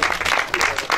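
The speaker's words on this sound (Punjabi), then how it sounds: "ਇਹਦੇ ਵਾਸਤੇ ਤਾੜੀਆਂ ਸੁਣੋ" A brief burst of audience applause at a Punjabi comedy drama, a dense patter of clapping lasting about a second.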